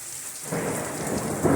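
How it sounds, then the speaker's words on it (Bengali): Thunder rumbles low and loud over steady rain, swelling around midway and again near the end with no voices. "মেঘ ডাকতে দেখছো আওয়াজ"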